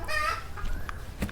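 A chicken clucking close by, a few short harmonic clucks at the start followed by softer scattered calls, with no talk.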